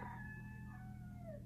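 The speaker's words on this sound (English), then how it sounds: "Mr. Teddy Bear Rooster is out there crowing." A rooster crows once at a distance, a faint drawn-out call over a steady low hum.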